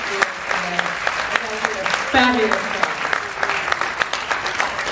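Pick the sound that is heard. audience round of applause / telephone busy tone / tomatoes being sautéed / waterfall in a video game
audience round of applause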